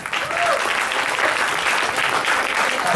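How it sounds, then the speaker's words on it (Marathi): An audience at a Marathi school Diwali programme breaks into loud, sustained applause, a dense wash of many hands clapping together without pause. "एक जोरदार टाळ्या यांच्यासाठी."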